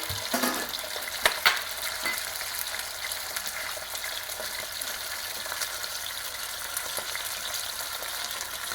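Clams hitting a hot pan as a splash of white wine goes in, bursting into loud, bubbling sizzle with a sharp initial hiss and a few clatters, then settling into a steady frying crackle close by.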